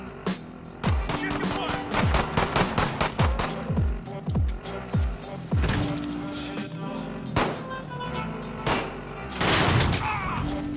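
Rapid bursts of video game gunfire during a team fight, with a voice talking over the shots.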